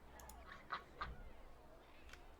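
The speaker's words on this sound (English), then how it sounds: "There's a duck. There's a duck." A duck in a video game gives a few quiet, nasal quacks in quick succession, with a couple of sharper honks near the start and one more near the end, faint against a low background.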